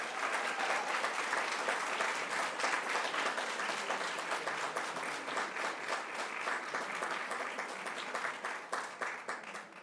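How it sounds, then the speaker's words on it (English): An audience at a school district board of trustees meeting applauds an eighth-grade student ambassador, a dense, steady wash of clapping from many hands that holds for about ten seconds and tapers slightly near the end. "please join me in a round of applause for our Do the Right Thing National Ambassador"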